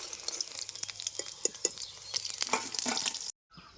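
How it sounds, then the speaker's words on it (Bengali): Capsicum fritters in oil crackle and sizzle steadily with scattered pops and light scraping, close by, then cut off abruptly near the end. "বড়াগুলি ভাজা হয়ে গেছে, উঠিয়ে নিচ্ছি"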